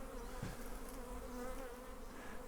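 A dense, steady buzzing of a swarm of honey bees, agitated, being taken down from a tree, fills the air, a continuous low drone with no pauses, heard up close at moderate volume.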